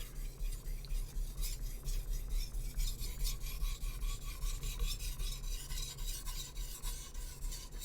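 A Japanese boning knife rasps across a whetstone in quick, light sharpening strokes, a close, continuous scraping with rhythmic pulses through the stroke and no talk over it.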